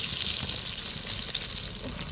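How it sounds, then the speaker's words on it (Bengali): Eggplant slices frying in a pan with a steady, bright, continuous sizzle, moderately close and alone without talk. "বেগুন সুন্দরীটা দেখো পারফেক্ট ভাজা হচ্ছে।"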